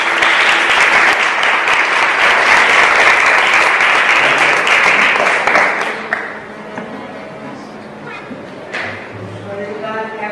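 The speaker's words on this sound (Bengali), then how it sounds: "শুভেচ্ছা স্বরূপ আমরা জোরে করতালি দিয়ে তাদেরকে" Loud, sustained applause from a wedding congregation cheering the newly married couple at a Christian ceremony, dense clapping for about six seconds before dropping away to a quieter room with faint murmurs.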